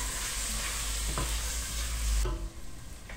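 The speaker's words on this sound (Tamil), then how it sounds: "நம்ம உப்பு சேர்த்து நல்லா இதையும் நல்லா வதக்கிக்கலாம்." Five tomatoes with salt are sautéed in a pan for a Muslim-style wedding mutton biryani. A steady close sizzle plays under a few scraping stirs of the spoon, and the frying hiss drops off sharply near the end.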